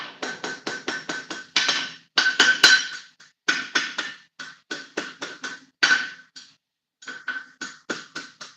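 Rapid metal hammering with a light 1.5-pound hammer on hot iron at a forge, with quick bursts of ringing blows in steady rhythm broken by short pauses, loud and close, with no voices.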